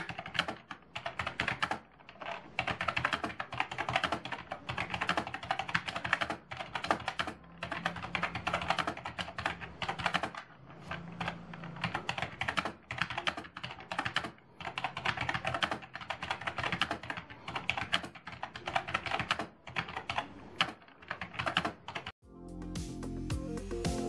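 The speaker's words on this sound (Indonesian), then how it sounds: "Bagi yang nanya keyboard ini berisik atau enggak saat dipakai ngetik" Continuous typing on an Armaggeddon AK-6770 full-size non-mechanical plastic keyboard, a steady clatter of fast keystrokes with no talk, ending in a brief different sound.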